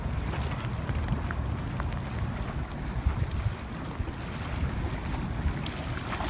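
Ocean waves wash steadily at a seaside park, a continuous low rumble of surf mixed with gusting wind buffeting the microphone, fairly loud and unbroken with no talk.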